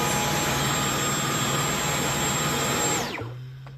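Dyson V11 Absolute cordless vacuum running in eco mode, a loud, close, steady motor whine that winds down sharply near the end, with no voices.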